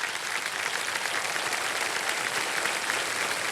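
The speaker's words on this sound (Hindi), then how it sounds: "ताली बजती जा रही है, बहुत अच्छी बात।" A studio audience on a televised quiz show claps steadily in a dense, even wash of applause that holds at a moderate level for a few seconds.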